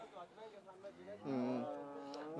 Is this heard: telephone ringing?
no